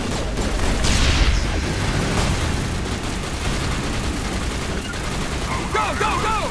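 Sustained gunfire and bursts of weapon fire in a combat firefight in Mass Effect Legendary Edition at the ExoGeni facility, loud and dense throughout, with shouted voices mixed in over the shooting.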